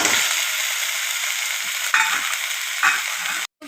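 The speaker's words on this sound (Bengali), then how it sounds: "নুনটা আপনারা আপনাদের স্বাদ অনুযায়ী দেবেন। দিচ্ছি এতে প্রয়োজন মতো হলুদ গুঁড়ো দিয়ে সব মশলাটা আমি এবারে আরেকবার নেড়ে দিলাম ভালো করে" Spices with salt and turmeric being stirred in a frying pan give a loud, close, steady sizzle, broken by a few spatula scrapes and a brief pause near the end.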